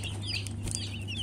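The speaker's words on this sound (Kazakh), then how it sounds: "Міне Arbor iCress балапандары" High, chirping calls from Arbor Acres broiler chicks in a homemade brooder, several overlapping cheeps over a low steady hum, close and continuous, with no talk.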